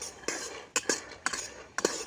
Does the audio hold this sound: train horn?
no